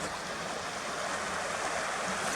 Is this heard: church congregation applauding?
no